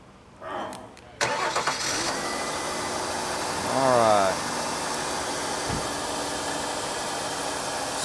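A Ford Taurus with a misfire cranks and starts, its engine catching after a brief whir and settling into a steady, rough idle close by, with a rising whine partway through.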